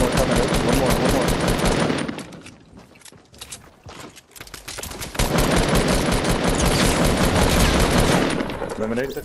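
Rapid automatic gunfire in the Fortnite video game, loud bursts filling the opening two seconds, a quieter lull, then sustained heavy firing again from about five seconds on, with players talking over it.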